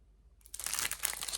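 Close crinkling and rustling of thin plastic zip baggies holding diamond painting drills, a short burst of crackles that starts after a brief silence.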